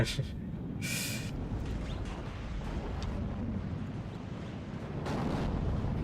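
Heavy battlefield barrage from mortars and artillery in the Warno wargame: a dense, continuous rumble with sharper booming bursts rising above it, loud and steady across the whole span.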